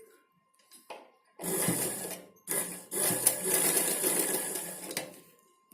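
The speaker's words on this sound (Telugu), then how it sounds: "దీన్ని స్టిచ్ చేసుకోవాలి." A sewing machine stitches folded multicolour cloth leaf petals for a blouse design, its steady mechanical whirr running in two bursts after a short pause, close and fairly loud, with no talking.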